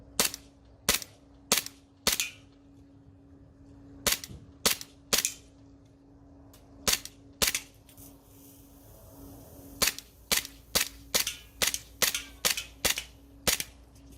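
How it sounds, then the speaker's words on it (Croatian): An M9A1 CO2 air pistol fired at cans, sharp close cracks in irregular bursts, some single shots and quick strings of rapid fire, with a faint steady hum between shots. "sad idemo gađati limenke da vidimo koja će napraviti bum"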